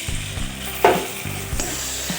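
Ground spice paste hitting hot oil over browned onions in a Bengali rui fish and potato curry, giving a sharp sizzle burst with stirring scrapes and a steady frying hiss, close and clear without talk.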